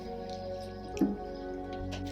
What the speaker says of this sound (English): we are getting some drip